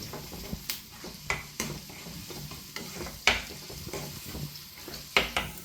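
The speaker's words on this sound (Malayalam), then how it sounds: "ഈ ഉള്ളിയും കറിവേപ്പിലയൊക്കെ നന്നായിട്ടൊന്ന് മരിഞ്ഞു വരട്ടെ" Small onions and curry leaves sauté in a pan for a Kerala-style drumstick tomato curry. A steady close sizzle runs under repeated scraping stirs and a few sharp ladle clinks against the pan.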